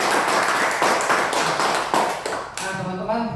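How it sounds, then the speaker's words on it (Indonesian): Audience clapping at a business opportunity meeting in Pekanbaru, heard as dense, uneven claps with a few sharper hits, fading out toward the end as a voice begins speaking. "Tepuk tangan buat Pak Indra Yadi."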